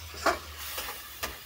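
Food frying in a pan gives a low, steady sizzle, with three brief scraping strokes of a spoon stirring it nearby.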